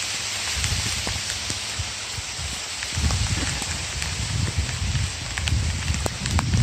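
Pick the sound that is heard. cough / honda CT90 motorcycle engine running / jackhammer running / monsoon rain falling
monsoon rain falling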